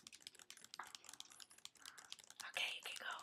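Quiet typing on a computer keyboard, a rapid irregular clatter of soft keystrokes that grows a little louder and denser toward the end, with faint breathy noise beneath it.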